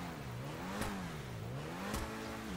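A V8 engine on the Scramjet car in GTA 5 revs in two rising-and-falling sweeps, each peaking with a sharp burst, steady and close with no talking.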